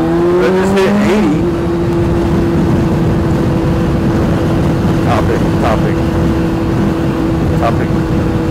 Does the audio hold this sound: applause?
no